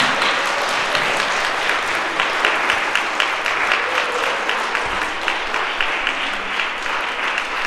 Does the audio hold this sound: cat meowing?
no